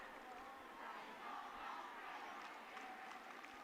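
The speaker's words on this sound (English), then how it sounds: "And the fans getting their chants going" Football fans chant together in a stadium during a Wisconsin high school state championship game, a distant, faint roar of many voices rising and falling in rhythm.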